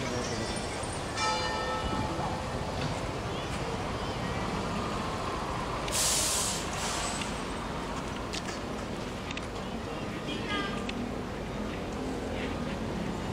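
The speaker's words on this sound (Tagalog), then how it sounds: "Kampana, nakita niyo yung kampana" A church bell rings amid loud, steady outdoor noise like traffic, its tones partly buried in the wash of sound.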